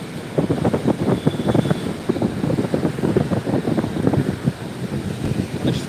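Strong, fast water current rushing through a rubber dam, a dense, steady roar with choppy surges and wind buffeting the microphone, heard close and loud with no talk.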